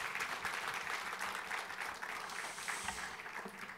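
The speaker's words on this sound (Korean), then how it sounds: "큰 박수로 환영해 주시기 바라겠습니다" Audience applause welcoming a guitarist with a developmental disability onto the stage at a disability-day commemorative event, a steady field of clapping at moderate distance that carries on evenly throughout.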